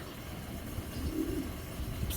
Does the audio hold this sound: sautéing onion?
no